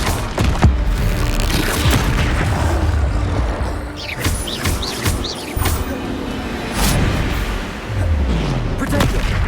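Confringo explosion spells go off in Hogwarts Legacy combat as a string of loud, booming blasts with rumbling tails, close and forceful, mixed with game voices and battle noise.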